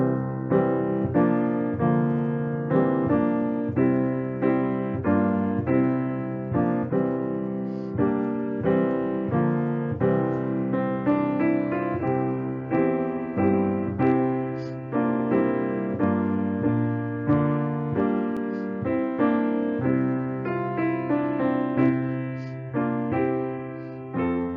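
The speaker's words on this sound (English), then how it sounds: "I'm going to play this song with an accompaniment in the Mixolydian mode." A melody plays over a sustained accompaniment in the Mixolydian mode, with steady rhythmic chords underneath and no voices across the whole passage.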